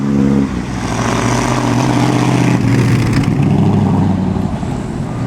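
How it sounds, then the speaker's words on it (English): A loud, rough vintage Talbot car engine at the Mille Miglia runs close by, rumbling and revving steadily with a harsh mechanical roar throughout. "Alright, here's this noisy Talbot."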